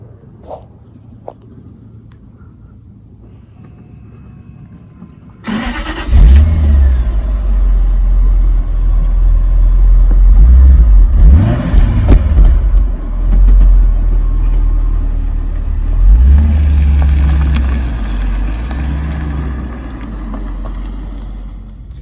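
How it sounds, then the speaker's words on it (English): Silence, then a Jaguar XJR car engine starts with a sudden roar, settling into a deep idle broken by several strong revs, loud and close, no talking. "So I'm just going to start the engine, and you can hear how lovely this sounds."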